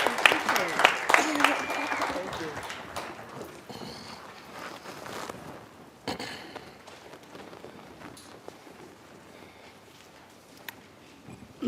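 An audience at a school African American History Month event applauds student performers and a choir. The clapping is loud at first, then thins into scattered claps, and a voice speaks over it.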